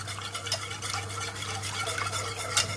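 Milk is stirred into a cheese sauce in a pan with a steady, soft scraping swirl over a low constant hum, close and quiet, with no talking.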